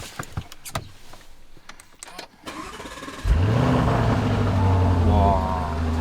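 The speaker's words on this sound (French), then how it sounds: "il va démarrer le Urus" A Lamborghini Urus engine starts after some faint clicks and rustling, firing up with a loud bark that settles into a deep, steady, close idle with a slight rise in pitch.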